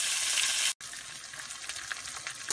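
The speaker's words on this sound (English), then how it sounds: "I'm just going to be frying this" Fish frying in a pan, a close, loud, continuous hiss and sizzle with crackles and a brief dropout near the start, no talking.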